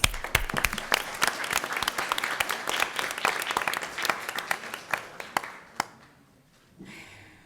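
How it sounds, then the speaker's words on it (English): A small group at a school board business meeting claps in a quick burst, sharp individual claps audible, then the applause tapers off and stops near the end. "I'd like to thank them with a round of applause"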